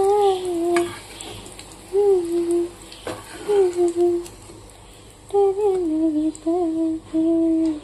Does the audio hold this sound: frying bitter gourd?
yes